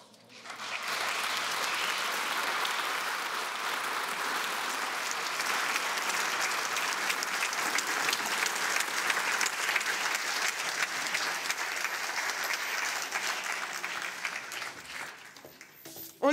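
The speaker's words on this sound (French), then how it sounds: "On les applaudit encore bien fort, s'il vous plaît" A theatre audience at a student stage evening gives a sustained, loud round of applause for a troupe, dense clapping holding steady for about fifteen seconds before tapering off at the end.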